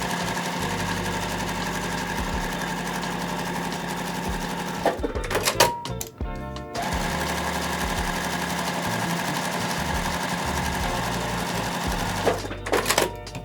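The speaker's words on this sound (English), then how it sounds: "Now we're gonna sew on both sides of this line." Sewing machine stitching quilt fabric squares, running in a steady fast close-up hum, briefly pausing twice with handling clicks before restarting.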